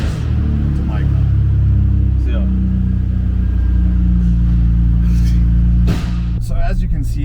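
Nissan Skyline GTR engine starting up and settling into a deep, steady rumbling idle, loud and close, with a brief rev near the end, heard alone without talk.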